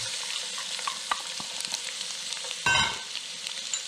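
Chopped onion dropped into hot oil in a sauté pan sizzles steadily and loudly, with a brief burst of sharper crackling partway through and faint stirring clicks, no voices.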